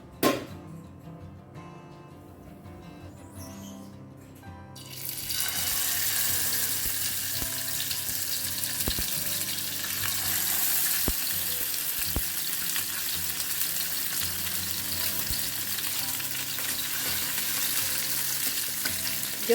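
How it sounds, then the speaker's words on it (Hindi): Marinated mackerel stuffed with Goan recheado masala drops into hot oil and a loud, steady frying sizzle starts after a few quiet seconds, carrying on with occasional crackles and no talking. "तो तेल यहाँ पे ना अच्छे से गर्म हो चुका है। अब फिश को फ्राई करते हैं।"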